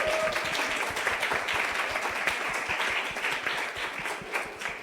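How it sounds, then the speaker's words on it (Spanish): Clapping rises from a church gathering for Juan Carlos after his testimony, a sustained, evenly paced round of applause from many hands, moderately loud and without voices over it. "Denle un fuerte aplauso por favor a Juan Carlos."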